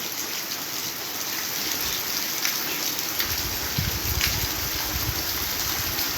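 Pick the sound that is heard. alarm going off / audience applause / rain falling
rain falling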